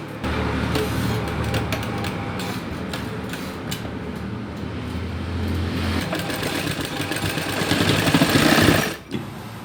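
A sewing machine stitches fabric for baby shorts with a continuous, close rattling whir. It grows slightly louder near the end, then stops abruptly just before ten seconds.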